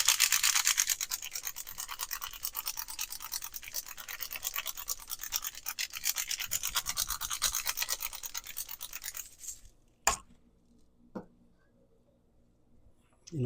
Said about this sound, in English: And fresh cracked pepper to taste.